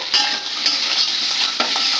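Amla chutney fries in a pan with tempered mustard seeds, dried red chilli, turmeric and salt, giving a steady close sizzle broken by a few sharp clinks of a stirring spoon against the pan.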